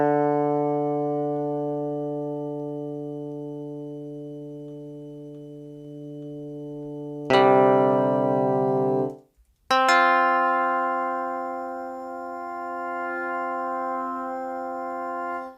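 A sampled Japanese harp note held in an Ableton sampler with forward-backward sustain looping and crossfade rings steadily and fades slowly, then restarts brighter, cuts out briefly and resumes sustaining, with no talking.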